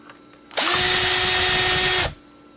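A power drill whirs steadily for about a second and a half, backing screws out of a dead treadmill motor controller board, starting and stopping abruptly and loud and close with no talking.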